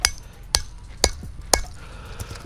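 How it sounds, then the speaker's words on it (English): A hammer strikes a homemade plastic bow grip four times at an even half-second pace, each blow a sharp close crack with faint knocks between. "I'd have to hit it with a hammer again."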